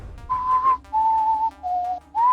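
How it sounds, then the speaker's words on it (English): Someone whistles four long, steady tones, each held about half a second with short gaps between, the pitch dipping slightly then rising on the last, close and clear with no talking. "just look at her and whistle"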